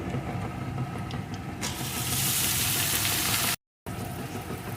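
Malabar spinach being fried with onion in oil, a loud steady sizzle that swells as the greens go into the pan, broken briefly by a gap of silence.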